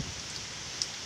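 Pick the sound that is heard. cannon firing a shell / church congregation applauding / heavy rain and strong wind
heavy rain and strong wind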